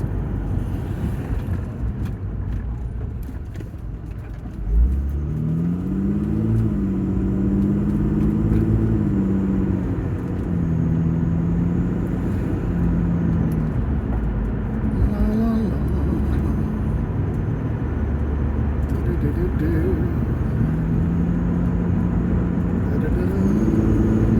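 A Mitsubishi Eclipse engine runs steadily at close range, a low rumble with a droning intake tone that rises and falls slightly as the revs change.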